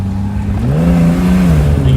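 A 1970 Mercedes-Benz 280SL accelerates, its engine note rising in pitch from inside the car, loud and continuous with road noise beneath.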